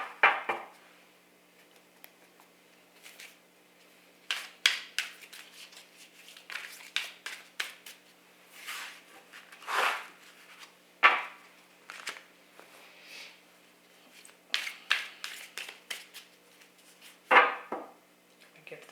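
Tarot cards shuffled by hand in bursts of riffling and tapping, close and fairly faint in a quiet room, with pauses between handfuls.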